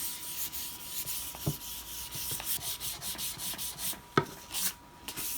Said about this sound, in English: Just lightly sanding